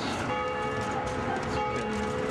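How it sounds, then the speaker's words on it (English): A church bell in Apia, Samoa rings steadily with sustained tonal overtones, heard at a distance on a windy day over a continuous bed of wind and street noise. "You just heard the bell there."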